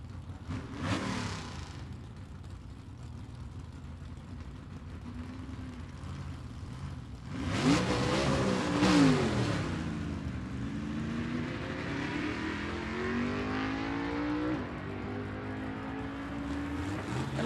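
Gasser drag race car launching from the starting line at a Southeast Gassers Association test-and-tune event, engine rumbling at idle, then a loud roaring rev surge that pulls away and fades into sweeping engine tones.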